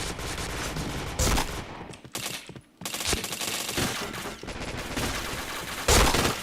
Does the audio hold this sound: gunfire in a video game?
yes